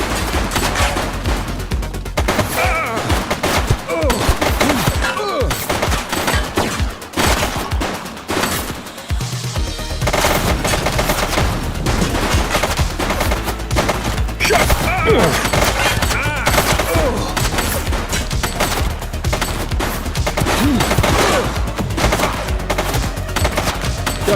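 Sustained gunfire from a police officer video game, with dense bursts of automatic fire and rapid repeated shots running nearly the whole stretch, loud and continuous, with voices occasionally under the shooting.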